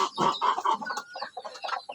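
Several chickens cluck close by near a brooder cage in short, busy bursts, overlapping soft calls with no talking.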